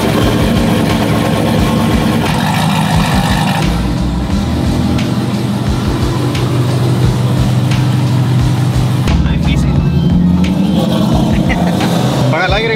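Loud, steady engine rumble from a supercharged Corvette or a turbo Silverado with a 408 stroker, running close by without letup while people talk over it.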